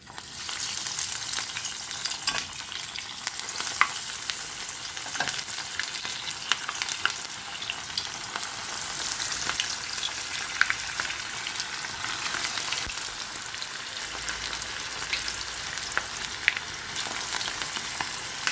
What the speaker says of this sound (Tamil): இப்போ எண்ணெய் காஞ்சிச்சு நம்ம ஒன்று ஒன்றா போட்டு எடுத்துக்கலாம்